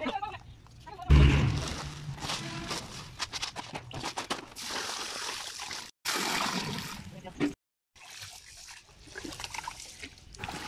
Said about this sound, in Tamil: கொதிக்க வச்சுட்டு அடுத்து நம்ம அரிசி களையிறத பார்க்க போகிறோம்.